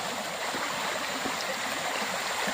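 A stream flows down from higher ground with a steady, full rushing sound that stays constant throughout and has no voices.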